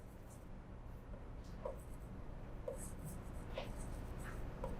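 Handwriting during an accounting lesson, probably pen or chalk, makes faint, scattered strokes and taps under a steady hiss of background noise, with no speech in between.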